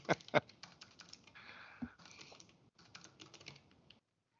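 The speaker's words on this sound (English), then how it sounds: "Someone's typing fiercely" Fierce typing on a computer keyboard clatters in quick bursts of crisp key clicks, with two sharp louder strikes at the start, then a rapid run that stops abruptly.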